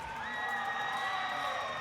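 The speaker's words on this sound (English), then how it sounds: "I hear the cheers coming in from the crowd" A crowd cheers steadily throughout at the 2025 Hudson Valley Regional robotics competition, a dense, sustained roar with faint tonal whistles or horns riding above it.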